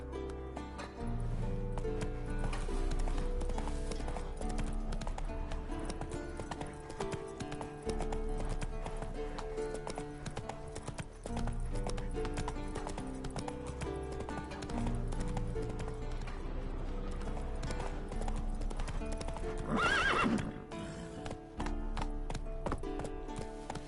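Hooves pound in a fast, continuous gallop as Roach, the horse in The Witcher 3, runs over game music, with a sharp neigh rising near the end.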